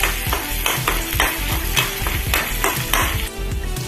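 Onions fry loudly in a pan with constant sizzling while being stirred, giving rhythmic scraping strokes against the pan every fraction of a second, close up with no talking.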